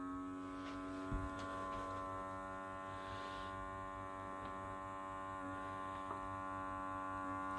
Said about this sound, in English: Right, close that down, press vacuum seal.